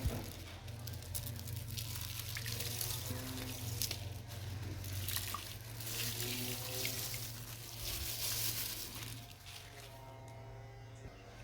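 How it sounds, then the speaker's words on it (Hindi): Washed basmati rice pours from a strainer into a pot, giving a wet, trickling patter with soft squishy shifts over a low steady hum, quieter near the end. "बासमती मैंने डाल दिया है।"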